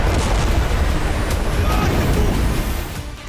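Missile strike explosions in Tel Aviv during a Hezbollah attack, heard as a loud, sustained roar of booming blasts and rumbling that fades slightly toward the end.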